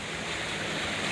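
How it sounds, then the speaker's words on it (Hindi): Water rushing through a small dam gate raised to let the flow pass, a steady loud broadband roar that holds evenly throughout without any break, and nobody is talking over it. "ये ऊपर करते हैं तो पानी इससे ईजी जाता है"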